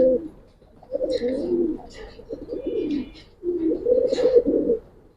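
Gribaz Khaki pigeons cooing in soft, repeated low bursts, a brood pair near their eggs, close by with faint chirps above.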